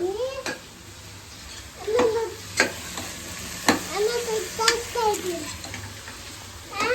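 Ingredients for mushroom biryani fry in a pan with a soft sizzle, while a spoon scrapes and clinks against the metal in a few sharp knocks and a voice talks now and then.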